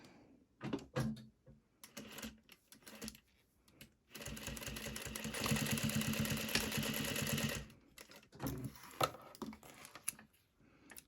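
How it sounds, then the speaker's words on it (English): A sewing machine stitches a label onto an ultrasuede bib, a steady rapid mechanical whir lasting several seconds, framed by clicks and handling knocks before and after, close by and fairly quiet. "I'm going to sew down my label"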